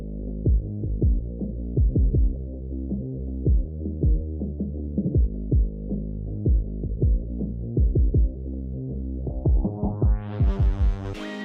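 A hip-hop beat plays with its high end filtered away, leaving a muffled, thumping low-end groove with steady kick and bass hits, until the filter opens up brightly near the end.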